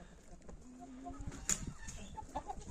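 Hens on a small egg farm during morning feeding, soft scattered clucks and short calls close by at low level, with faint rustling and no speech.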